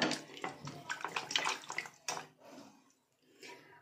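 Peeled jackfruit pieces are rinsed by hand in water, giving a close run of splashing and sloshing that eases off toward the end.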